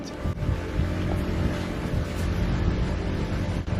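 A boat pushing out into open sea in rough, stormy tropical weather: heavy rumbling engine and wind-battered water noise, loud and continuous with occasional knocks and thumps, no talking.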